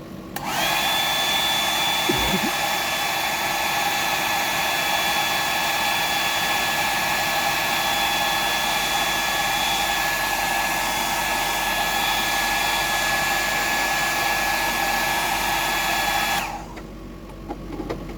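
A hair dryer blows steadily on an epoxied orange prawn fly pattern, a continuous loud whir with a high whine running about sixteen seconds before it cuts off abruptly.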